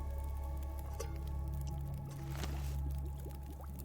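Water pours steadily into a container in the survival game Misery, a continuous trickling wash over a low ambient hum, with no voices.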